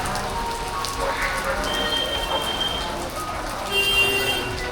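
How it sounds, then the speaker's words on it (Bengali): Heavy rain pours steadily at Kumartuli, Kolkata, amid Durga Puja idol preparation, a dense continuous hiss of drops on surfaces that swells slightly near the end, with no talk. "একটু বেশি জোরে বৃষ্টি হচ্ছে"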